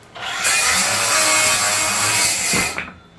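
A Flex 24V rear handle circular saw spins up and rips through a cedar 2x10 in one loud, close cut lasting a couple of seconds, then winds down quickly as the blade brakes.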